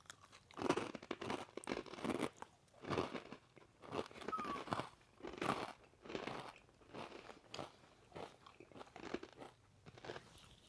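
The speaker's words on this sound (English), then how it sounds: "I'm gonna try not to crunch too much into the mic" Close-miked crunching and chewing of small pizza-scented snack bites, repeated bursts of crisp crackle and jaw munching right at the mic over about ten seconds, with no talk.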